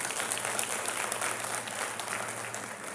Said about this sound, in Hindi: इनके लिए एक बार जोरदार तालियां बजाएं।